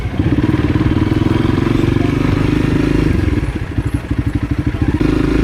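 A Honda CRF300L motorcycle rides along a bike path near Santa Monica Pier, its engine running steadily and loudly, close by, with a rapid thumping pulse that breaks up briefly toward the end before settling again.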